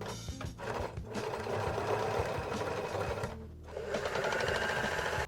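A sewing machine stitches the front and back pieces of a jacket together, a steady, close mechanical whir that runs continuously with only a brief dip, and no talking.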